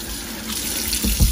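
Water runs from a tap into a sink while cast iron Art Deco bookends are washed, a steady close splashing stream that swells and thuds heavier near the end.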